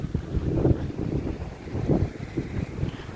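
Steady wind blowing across the microphone on a walk past lakeside houses, a continuous low rumble that gusts and swells in waves, fairly loud and with no voices over it.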